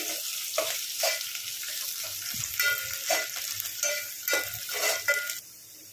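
Coriander leaves drop into hot tempering oil in a home kitchen pan and crackle in bursts of sizzle while being stirred, fairly close and steady, with no one talking.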